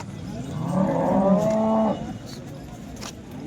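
A single long cow moo rises and holds for about a second and a half, fairly close, against a low background hum at a livestock market in Modnimb.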